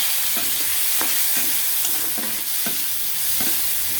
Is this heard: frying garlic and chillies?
yes